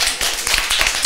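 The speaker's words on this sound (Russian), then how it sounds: "Ребята, аплодисменты!" A small group claps during a cooking show, brisk uneven hand claps close to the microphone in a short burst, with individual slaps standing out from the patter.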